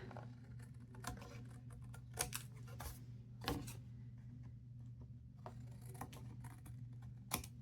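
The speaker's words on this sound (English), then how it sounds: "then I would open it up and trim off the excess" Excess paper being trimmed off a card, a quiet series of sharp snips and crisp cuts at an irregular pace over a faint steady hum, close by, with no talk.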